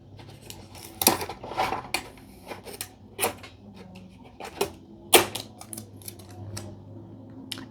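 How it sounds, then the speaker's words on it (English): Tape pulled and torn from an office tape dispenser: a series of sharp, crisp clacks and rasping bursts, spaced irregularly over a low steady hum, with no talking. "Der Klebebandroller. The tape dispenser."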